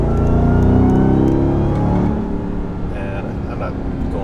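A 2021 Ram 1500 TRX fitted with a loud AWE exhaust revs up briefly, its deep engine roar rising and then easing into a lower rumble, with a voice talking over it.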